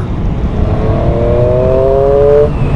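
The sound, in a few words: Triumph 765 Street Triple R motorcycle accelerating in fourth gear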